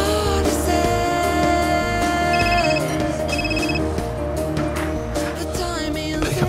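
A mobile phone rings in a scene from the TV series Chuck, two short trilling bursts in quick succession, carried over a steady background of music.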